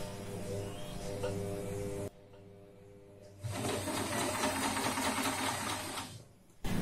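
A sewing machine stitches in two bursts with the back-stitch lever pressed, a steady close mechanical whir that stops for about a second, then resumes louder and denser before cutting off.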